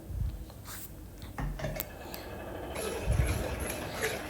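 Ladle or spoon clinking and scraping against a pot while green gram curry is stirred with ground coconut paste, a few scattered taps and soft scrapes at close range with no talking.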